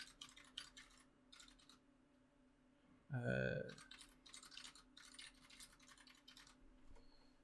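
A computer keyboard being typed on during a podcast, heard as bursts of quick clicking keystrokes with pauses between them, while a voice speaks over the keys partway through.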